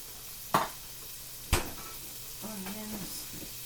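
Onions and celery frying in a pot for pork curry, with two sharp utensil clacks against the pot followed by a soft sizzle and stirring, close and fairly quiet.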